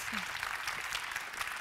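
Audience applause for an improv theatre troupe, a steady broadband wash of clapping that holds evenly throughout at a low, somewhat distant level with no voices over it.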